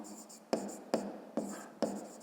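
A pen writes an answer to a fifth-grade math exercise with quick scratchy strokes in four short bursts, close and fairly quiet.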